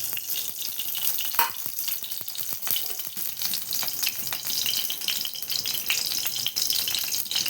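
Crushed garlic and green chili fry in mustard oil, a dense crackling sizzle that holds steady throughout with a few faint stirring knocks, close and fairly loud.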